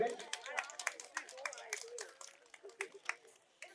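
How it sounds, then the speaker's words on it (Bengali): An audience gives scattered, irregular applause for a quiz prize winner at a medical college and hospital in Santiniketan, the claps faint and uneven over a few seconds. "সকলে একটু করতালি দেবেন"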